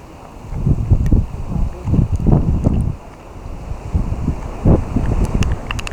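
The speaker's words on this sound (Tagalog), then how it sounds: "Malakas yung hangin." Strong gusts buffet the microphone outdoors in nature in heavy, uneven rumbling bursts, swelling and easing over several seconds.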